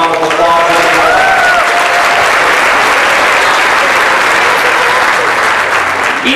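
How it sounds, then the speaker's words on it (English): Loud, sustained audience applause for two student live streamers in a productions class, a dense continuous wave of clapping that fills the whole stretch. "Let's give them a round of applause."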